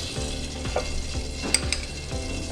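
Butter is added to a beurre blanc sauce heated almost to a boil and stirred in. A soft, steady sizzle runs under a few light clinks of a utensil against the pan.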